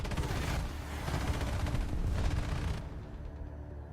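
Rapid, dense gunfire from shooting at enemies in a video game, a loud continuous burst of shots that drops to a quieter background rumble for the last second.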